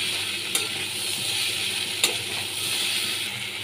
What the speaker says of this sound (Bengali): এবার এর মধ্যে কুমড়ো দিয়ে দিলাম, 1 চামচ ধনিয়া গুঁড়ো, 1 চামচ জিরে গুঁড়ো, ভালো করে কষিয়ে নিচ্ছি